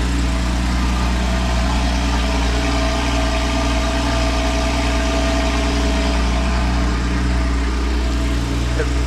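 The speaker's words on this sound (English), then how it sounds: "that'll give you a sample of what the engine sounds like" A Porsche flat-six engine idles, heard close up from the rear of a convertible, a loud, steady low rumble with a smooth, even pulse that holds unchanged for the whole stretch.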